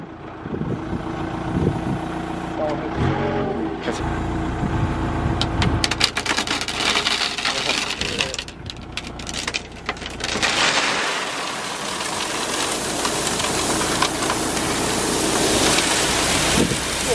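A loaded Toyota Tacoma pickup takes a dump of pea gravel stone, a long rushing, rattling pour of stones over engine rumble, loud and continuous, ending in a steady hiss.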